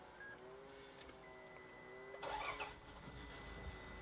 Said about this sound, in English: to start the car, you press your foot on the brake. And then you push the start-stop button.